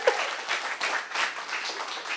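An audience at a coaching workshop session claps together in a brief, moderately loud round of applause that surges and eases in waves.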